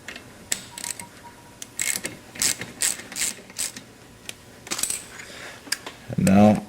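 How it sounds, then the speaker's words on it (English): Ratchet wrench driving 12mm bolts back down on a Honda VTX motorcycle brake caliper, a run of quick close clicking bursts with pauses between, ending in a short louder metallic clatter. "Screw the 12mm bolts back down."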